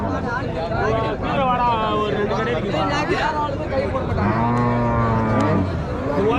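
Cattle moo at the Uthangarai native cattle market, with long, drawn-out calls from several animals rising over a constant babble of crowd voices and people talking nearby.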